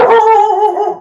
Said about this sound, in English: My dog says hello.